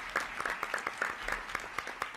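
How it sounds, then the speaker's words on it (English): Brief, fairly faint applause rises from an audience at a political event in Illinois as Governor Pritzker departs, a loose scatter of separate claps over a low murmur. "Can we give him another round of applause as he heads out?"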